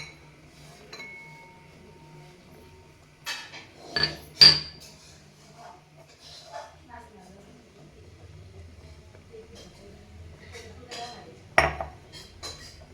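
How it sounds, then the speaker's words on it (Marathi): Spoon stirring crushed cardamom into milk kheer in a pot, giving scattered metallic clinks and scrapes, a couple sharper knocks, fairly faint and close, with someone speaking at points. "याला हलवूयात, चांगली मिक्स झाली पाहिजे."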